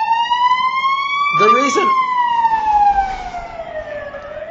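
Ambulance siren in the Battlefield 3 beta, a loud sustained wail gliding slowly up and down in pitch with strong harmonics throughout, someone talking briefly over it partway through.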